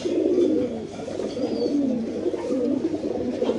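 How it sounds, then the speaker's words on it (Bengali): Pigeons, including a prized male tournament bird, coo nearby in a steady, overlapping throaty murmur that runs throughout with no speech. "এই যে এখন আমরা একটা নর ছাড়লাম, এই নরটাও অনেক ভালো কবুতর।"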